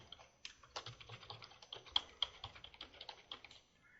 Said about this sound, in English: All I have to do here is go ahead and type in my content.